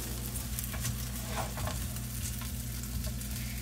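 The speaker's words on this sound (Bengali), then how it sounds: "ভেজিটেবলটা আমি বাটারে কিছুটা সটে করে নিব।" Frozen mixed vegetables sauté in butter in a pan, giving a steady, close sizzle with light stirring scrapes throughout, no voices.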